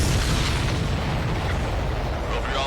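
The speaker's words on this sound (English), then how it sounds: "That's a confirmed direct hit by the missile." A missile strikes a supply ship in the aerial combat game Ace Combat 7, producing a sustained, loud rumbling explosion that fills the whole moment without a break.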